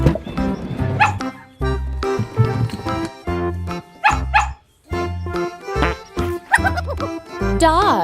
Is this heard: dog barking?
yes